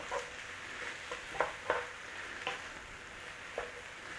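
A spoon stirring ingredients in a frying pan, heard as a soft background sizzle with a handful of light scraping clicks spaced irregularly, faint and close, with no talking.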